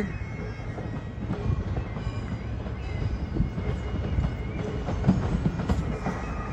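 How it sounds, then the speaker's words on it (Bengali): A train rolls through a busy Edinburgh railway station, a steady low rumble of wheels and carriages with faint rhythmic clatter, fairly close, no one speaking. "এই হচ্ছে রেলওয়ে স্টেশন, এই যে দেখতে পাচ্ছ ট্রেন যাচ্ছে।"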